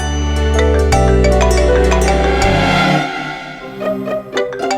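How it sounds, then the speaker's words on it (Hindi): A mobile phone rings with an incoming call, a loud melodic tune of bright repeated notes over a steady backing that drops away partway, leaving lighter chiming tones; no voices. "लगता है आपके फोन में ना मेरा एक कॉल आ रहा है ना?"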